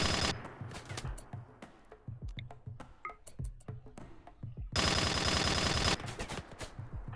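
Gunfire from a weapon in the video game RimWorld: rapid bursts of sharp shots, some single cracks and a dense sustained volley, loud and close with no talking.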